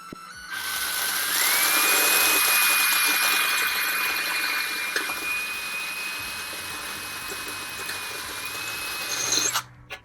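A power drill bites into a rivet on a Dell Optiplex computer case, giving a loud, close, continuous high whine that holds steady for several seconds before cutting off abruptly.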